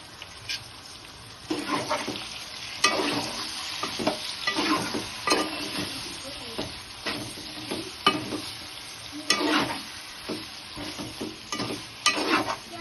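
Ginger garlic paste and salt being stirred into a sizzling capsicum masala curry, with a spoon scraping and clacking against the pan in irregular strokes over a soft, steady frying hiss, close and fairly quiet.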